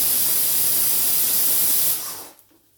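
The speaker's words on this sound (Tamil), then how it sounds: "ஏன்னா குக்கர் பின்னாடி வந்து மேலே சத்தம் கேட்குது." Steam hisses steadily and loudly from a pressure cooker on a home kitchen stove, a broad continuous rush that cuts off after about two seconds and fades to quiet.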